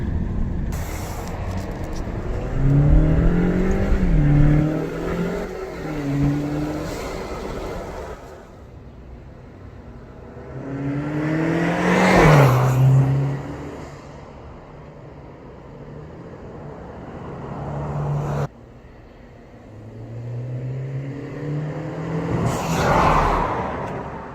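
An Alfa Romeo Giulia 2.0 with an aftermarket intake drives along a street. Three separate passes each build to a rising engine and intake whoosh that peaks and then drops away, with brief quieter gaps between them.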